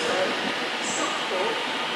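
Train pulling out of London Euston station on the West Coast Main Line, a steady broadband rumble of rolling stock with a faint high whine, heard at moderate distance throughout.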